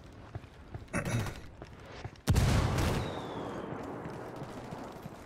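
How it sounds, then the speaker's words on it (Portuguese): Gunfire in Ghost Recon Wildlands, a few scattered shots before one loud, sharp blast that rings out and decays into a sustained rumble. "Tomando um pouco de tiro."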